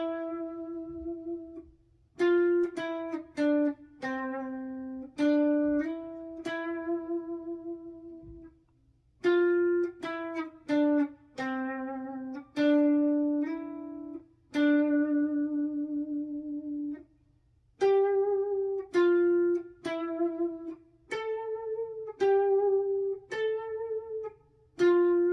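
Clean electric guitar plays a full outro unaccompanied, quick picked note runs in repeated phrases with brief gaps, shifting higher toward the end, close and steady in level.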